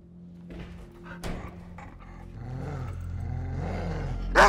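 Dogs in the thriller film Green Room let out deep, rumbling growls and snarls, swelling over a low tense score with sharp bursts near the end.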